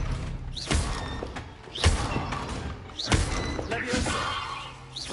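Spell casts from the Hogwarts Legacy video game, including Expelliarmus: three sharp magical thuds with swooshing bursts, evenly spaced about a second apart over a continuous rumbling game ambience.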